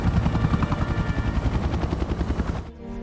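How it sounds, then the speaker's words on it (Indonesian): A helicopter flying over a forest roars loudly and steadily, its rotor chopping in a fast rhythm, then the sound cuts off abruptly near the end. "sebuah helikopter sedang terbang di atas hutan"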